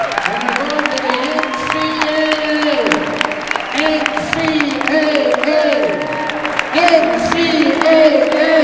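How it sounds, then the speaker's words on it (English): Crowd applause at a school pep rally for a first-ever conference champion team, clapping and cheering under a loud announcer's amplified voice talking over it throughout. "a nice round of applause"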